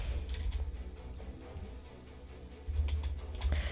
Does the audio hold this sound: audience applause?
no